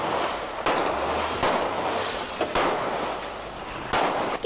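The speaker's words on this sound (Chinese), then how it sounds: "警方先是对天开枪警告" Police gunfire during a confrontation with a fleeing drug suspect who rammed a police car: several sharp, loud shots spaced about a second apart, outdoors, with no talking.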